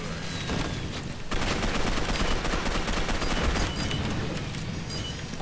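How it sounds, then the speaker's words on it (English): Relentless gunfire in Gotham City Impostors, a dense stream of rapid shots and bursts that stays loud and steady throughout, with no talking. "Stop shooting me!"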